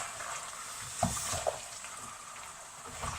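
Peppers and other vegetables fry in a big pan for a curry, with a steady soft sizzle and a couple of brief stirring knocks, close and moderately quiet.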